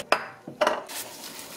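Blanched butterbur shoots tossed with doenjang seasoning in a bowl, giving a couple of close clinks and scrapes of a utensil against the dish, then a soft rustling mix.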